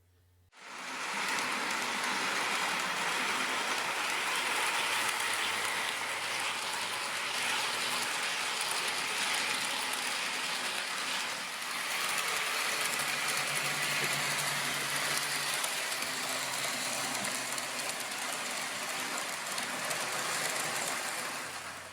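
A model Dapple HST train pulling new coaches runs around a DC-controlled test track, making a continuous close whirring rumble that holds steady from start to end after starting abruptly.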